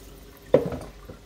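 Water poured from a glass being rinsed: a short, close splash with a couple of trailing drips, faint and alone in a quiet kitchen.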